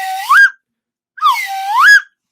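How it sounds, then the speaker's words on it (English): Two rising slide-whistle swoops ring out as a celebratory sound effect for a quiz winner. Each is loud and bright, with a short pause between them. "you get the whistle of woohoo"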